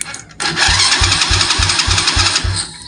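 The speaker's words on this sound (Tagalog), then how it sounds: "Okay, so kung narinig nyo mga boss, nag-start na yung ating motor." A motorcycle on a workbench starter-wiring setup cranks with a rhythmic chugging of about seven pulses under a loud whirring starter, then fires and cuts off abruptly, close and loud.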